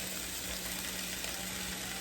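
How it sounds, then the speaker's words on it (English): Onions and kale sizzle in a hot pan, a steady, dense hiss of frying that is fairly faint and continuous with no talk over it. "Y'all can hear that sizzling."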